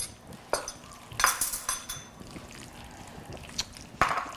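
Utensils clink and scrape against a bowl while ingredients are stirred into a Japanese potato mac salad, a few sharp knocks standing out over a quiet background with no talking.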